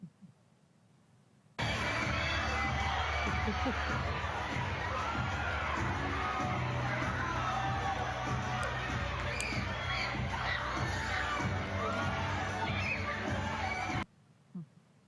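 Loud crowd of children screaming and cheering at an after-school care event in Sioux Falls, a dense continuous roar of shrieks and shouts lasting about twelve seconds, starting and stopping abruptly.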